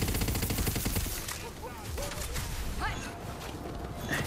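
Gunfire from a weapon in the fantasy shooter Tiny Tina's Wonderlands: rapid bursts of shots up front for the first second, then scattered distant shots and effects through a busy battle, with a voice talking in places.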